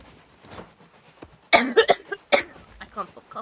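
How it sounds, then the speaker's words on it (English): Several harsh coughs burst out in quick succession, loud and close, after some quieter murmuring and breathing. "I can't stop coughing. This is ridiculous."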